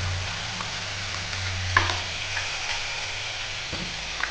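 Ginger and cumin paste frying in a pan, a soft continuous sizzle with a sharp spoon tap against the pan and light stirring scrapes.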